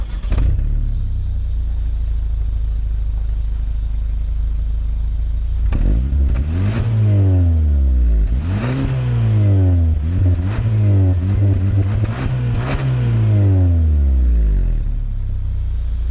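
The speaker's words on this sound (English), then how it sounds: "And now that you heard the exhaust," A 2021 Hyundai Sonata N Line with a 2.5-liter turbocharged engine and dual exhaust idles with a low steady drone, then revs hard several times in quick succession, each blip rising and falling loudly up close before settling back to idle.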